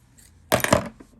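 Scissors snip through beading thread for seed-bead earrings, a single short, close, crisp cut against near silence.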